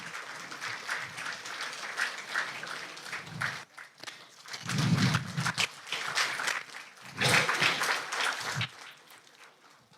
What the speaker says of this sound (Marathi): टाळ्या वाजत राहिल्या पाहिजेत मैत्रिणींनो.